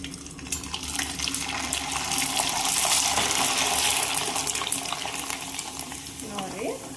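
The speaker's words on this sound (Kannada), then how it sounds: "ಎಣ್ಣೆ ಕಾದೈತಿ. ಈಗ ಫ್ರೈ ಮಾಡ್ಕೊಳ್ಳೋನು." Papad made from leftover rice sizzling and frying in hot oil, a steady loud hiss that swells briefly, with faint background sounds.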